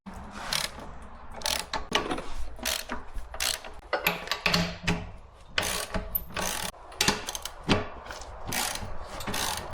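Ratchet wrench tightening bolts on a tractor plow, bursts of quick clicking in irregular rhythm, close and moderately loud, with short pauses between strokes.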